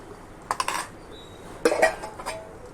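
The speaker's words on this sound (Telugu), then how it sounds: "ఇలా మూత పెట్టేద్దాం, వాసన పోకుండా" A metal lid is set onto a pot of tempered dal, giving two short clattering bursts of clinks and scrapes close by.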